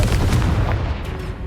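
A Confringo blast spell goes off in Hogwarts Legacy as one loud, booming, explosive burst that holds for a moment and then fades.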